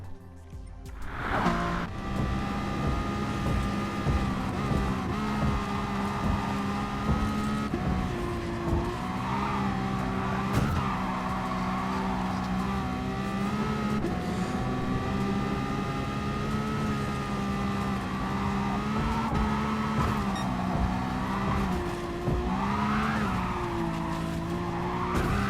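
Race car engine in Gran Turismo Sport on an N-Class hotlap at Tokyo, heard from on board: a loud, steady engine note that rises and falls through gear changes, with tire squeal and skidding, alone and continuous.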